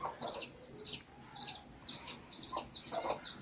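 Two hens tending six chicks cluck steadily in repeated short phrases at moderate distance, with faint higher chirps mixed in and no voices.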